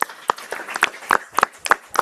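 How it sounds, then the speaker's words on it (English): An audience at a city council meeting applauds coaches with quick, uneven hand claps from a smallish crowd, close and fairly loud, lasting about two seconds. "We can give a round of applause for these coaches."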